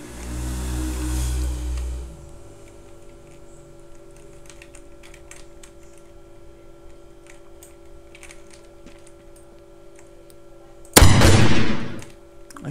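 A gunshot in the zombie survival video game DayZ (MTA mod) cracks out loud and close near the end, a single sharp burst after a quiet stretch of faint clicking and ambient game noise.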